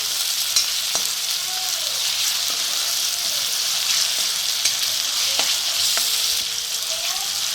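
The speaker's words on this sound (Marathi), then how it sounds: "म्हणजे टोमॅटो पण त्याच्याबरोबर परतता येतो" Onion and tomato sautéing in hot oil for dal tadka, giving a loud, continuous close sizzle with occasional spoon scrapes and stirring taps, no voices.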